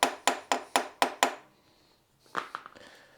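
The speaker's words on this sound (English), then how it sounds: "give it a bit of a tap." Hammer tapping on a part of a Honda CT110 motorcycle: six sharp, evenly spaced metallic knocks in quick succession, then a pause and a quieter cluster of lighter taps.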